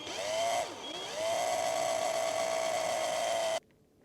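A cordless Aldi drill driving into a leather axe sheath, a high whining motor that briefly dips in pitch as it bites, then holds steady before stopping abruptly, close and alone.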